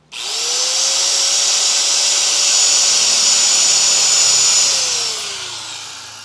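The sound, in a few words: heavy angle grinder running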